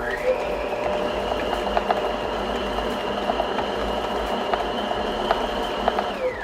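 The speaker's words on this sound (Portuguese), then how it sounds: "Levo aqui a batedeira e vou bater em velocidade rápida." An electric mixer beats butter and sugar at high speed, a loud, steady mechanical whirring drone that holds unbroken throughout.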